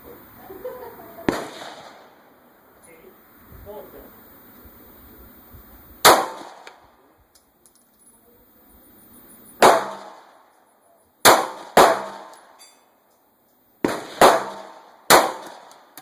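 Sharp gunshots from a shooting drill at a range, fired singly and in quick pairs, about ten cracks in all with short quiet gaps between the later shots.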